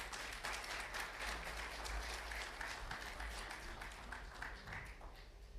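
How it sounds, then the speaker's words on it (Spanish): A church congregation claps together in a sustained, even round of applause, moderately distant and filling the room for several seconds without a break. "Denle un aplauso al Señor por su palabra."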